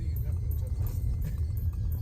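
A car drives off-road with a steady low engine rumble and bumpy road noise throughout, while people talk over it inside the cabin.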